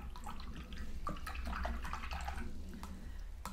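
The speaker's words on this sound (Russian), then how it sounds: "Хорошенько моем кисточку, прежде чем поменять воду" A watercolor brush swished and rinsed in a jar of water, a steady close sloshing and trickling with a few small clinks against the glass.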